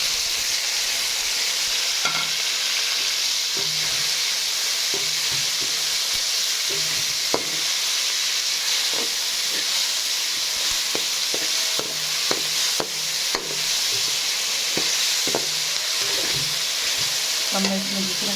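Tomatoes and green chillies fry in a pan with cabbage, potato and chicken, a steady sizzle running throughout with frequent light stirring clicks and scrapes scattered over it.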